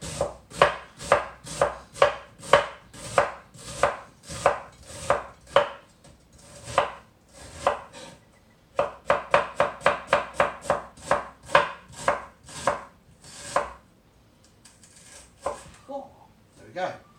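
A knife chops cabbage on a board in rapid, even strokes, with a brief pause midway and a few scraping sounds near the end. The chopping is close and crisp, and no voice is heard.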